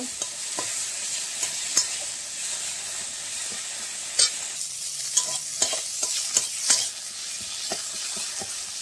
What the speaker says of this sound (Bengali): এবার এটা নেড়ে নিতে হবে ভালো করে, এইভাবে